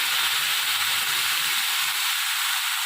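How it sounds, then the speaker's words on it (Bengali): Water poured into a hot pan of fried potatoes sets off a loud, steady hissing sizzle that holds throughout with no talk. "আমি এর মধ্যে জল একটু ঢেলে দেবো এই দেখুন পরিমাণ মতন আমি জল দিয়ে দেবো"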